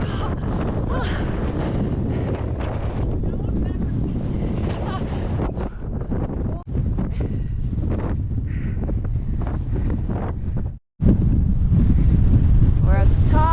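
Strong wind roars into the microphone on the open summit of Max Patch along the Appalachian Trail, loud, gusty buffeting with only a brief lull, while a person talks underneath.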